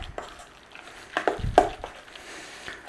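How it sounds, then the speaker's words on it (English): A spinach and ricotta cheese mixture is stirred together in a bowl, giving a few soft, wet squelching and scraping strokes up close over a short moment. "Spinach is cooled down enough to stir through there."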